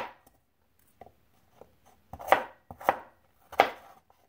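A knife chopping sweet potato and carrot for soup on a cutting board: a few light taps, then three firmer, evenly spaced chops, close and crisp with quiet between.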